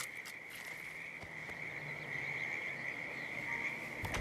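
Frog croaking near a creek in Hitman 2, a faint, steady high-pitched trilling chorus held continuously in the quiet distance, with a few soft clicks.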